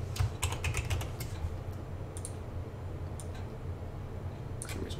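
Light typing on a computer keyboard, a few quick clusters of soft key clicks over a low steady hum, faint and close, with no voices.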